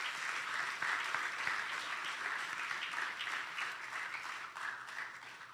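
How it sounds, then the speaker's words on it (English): A hall audience at a fraternity Honours Day convocation gives sustained, dense applause for the honorees, many hands clapping steadily at a moderate distance for several seconds without pause. "Let's give them a round of applause."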